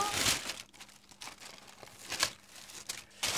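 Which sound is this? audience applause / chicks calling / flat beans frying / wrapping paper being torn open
wrapping paper being torn open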